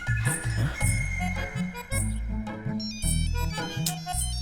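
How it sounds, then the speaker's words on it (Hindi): A phone ringtone plays loud and close, a repeating electronic melody cycling through its phrase several times with no talk over it. "अरे फिर से वही फोन कर रहा है।"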